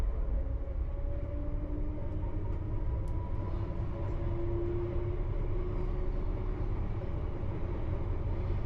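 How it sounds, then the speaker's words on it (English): A London Underground Metropolitan line train passing near Ruislip, a steady low rumble and rolling wheel noise with faint tonal whines, heard from a driver's cab. "Another Met Line train there."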